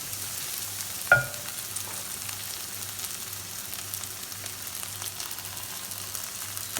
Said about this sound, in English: So we're going to put in our curry now